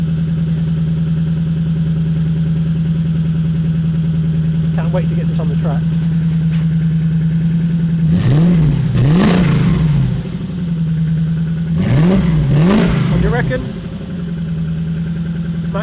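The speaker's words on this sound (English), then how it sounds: "It's the nicest sounding engine we've had for a long time." A car engine with its silencers cut off idles steadily with a low burble, then revs sharply in two short bursts of quick blips before settling back to idle; close and loud.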